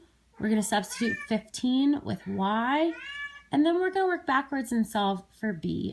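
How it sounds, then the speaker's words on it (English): A pet cat meows repeatedly and loudly indoors, its drawn-out cries overlapping a person who keeps talking throughout. "I apologize about my cat meowing."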